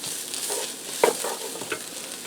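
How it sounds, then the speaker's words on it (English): Seasoning being stirred into a pot of stew: a soft spoon scrape and clink against the pot over a quiet sizzle, brief and close. "Give that a stir."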